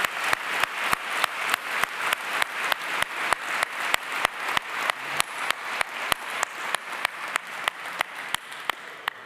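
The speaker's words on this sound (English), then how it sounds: "How about a round of applause for our new persons" An audience claps for new staff at a university president's convocation. The claps sound as sharp, evenly spaced beats in a steady rhythm that carries through to the end.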